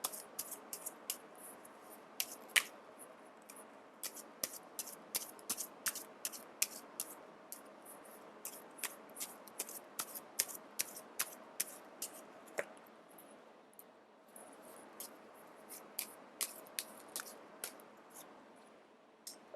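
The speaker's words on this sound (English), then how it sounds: "I'm actually going to pull out two more cards here" Tarot cards are shuffled and drawn from a deck close up, a quiet, continuous stream of soft paper flicks and snaps in an irregular patter, faint and without talking.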